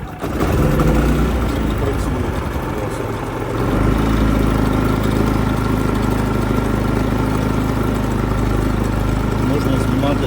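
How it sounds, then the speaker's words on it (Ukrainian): An Active AGI 3500 inverter generator, brand new with zero hours, is choke-started and settles into a steady, loud, close engine run that continues alone throughout. "Ставимо повітряну заслонку і запускаємо."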